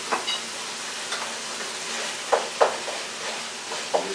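Brown sugar is stirred into a sloppy joe meat mixture in a pan over lowered heat, with a soft continuous sizzle and a few sharp spoon scrapes and taps against the pan close by.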